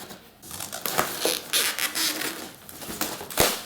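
Cardboard and plastic packaging around a Numark NTX1000 turntable crinkles and tears, giving a close, continuous run of rustles, scrapes and crackles with no voices.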